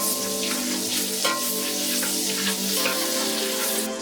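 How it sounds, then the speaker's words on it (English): Onions and garlic sizzle steadily in melted butter in a cast iron pan, a dense, continuous frying hiss with a few soft stirring taps and no talking. "Butter's melted, down with the onions and garlic."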